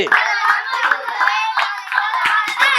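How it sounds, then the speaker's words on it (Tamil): Children clapping hands in time to a Tamil children's song at a writers' meeting with kids, the sharp claps keeping a steady beat under the sung melody. "கைத்தட்டு"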